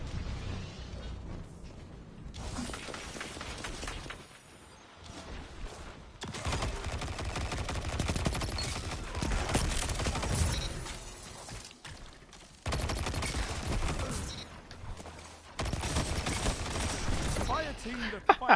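Gunfire from a weapon in Destiny 2 multiplayer, heavy bursts of rapid shots and blasts arriving in several loud stretches separated by quieter gaps, with a voice talking over parts of it.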